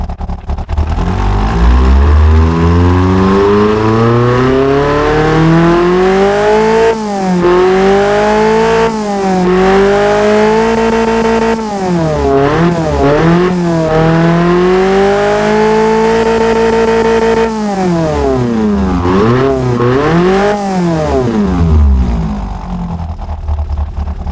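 Nissan KA24DE engine with a straight-through exhaust revving hard, loud and close, rising and falling through repeated sharp blips and long pulls with no voices.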